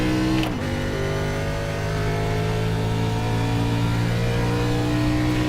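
Loud, continuous race car engine drone close by during hot laps at Texas, holding a high steady pitch with a brief dip in tone near the start as the throttle lifts.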